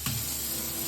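Hot water streams steadily from a kitchen faucet into a sink while pans are washed, a continuous close hiss and splash with no talking.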